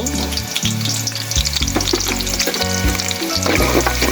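Chopped onion and cardamom frying in hot oil, a loud, close, continuous crackling sizzle with stirring movements, no voices.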